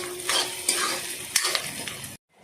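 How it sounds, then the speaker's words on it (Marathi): Onion with ginger-garlic paste stir-fried in a hot tempering for a jackfruit vegetable dish, giving close sizzling with several scraping stirs of a spoon against the pan, then a sudden cut to silence. "आता आपण ह्या फोडणीत घालतोय आलं आणि लसूणची पेस्ट, ती पण चांगली आपण परतवून घेऊ"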